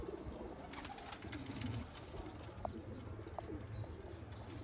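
Sialkoti breeder pigeons coo softly amid a busy outdoor background, with a few faint chirps and low murmuring throughout.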